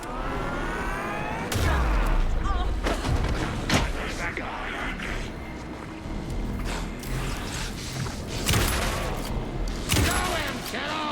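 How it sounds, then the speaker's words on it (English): Rapid bursts of gunfire in Alan Wake 2 crack repeatedly over a loud, busy mix of booms and thuds, with occasional voices shouting beneath. "Anderson, pin him down with gunfire for me to get the light on him"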